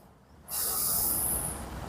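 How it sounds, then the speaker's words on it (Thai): During a meditation exercise, a single long breath sets in abruptly as a close, airy hiss and carries on evenly to the end, with no talking. "เห็นไหมครับหายใจเข้า แล้วก็หายใจออก"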